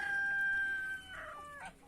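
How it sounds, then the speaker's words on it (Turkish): Chickens cluck and call close by on a farm, with a rooster's long, strained crow at the start followed by a few shorter clucks. "Burada yem yiyorlar. Güzel kuşlar."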